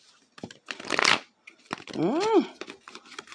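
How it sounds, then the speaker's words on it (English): Tarot cards are shuffled by hand in a few quick riffling bursts, close and crisp, with short gaps between them and a brief vocal sound in the middle. "I shuffled that wrong."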